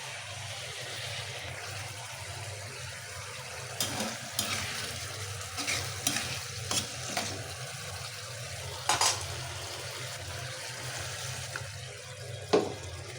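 Fish curry simmers in a pan with a soft, steady sizzle, broken by a few brief stirring scrapes and clinks of a spoon against the pot, close and fairly quiet.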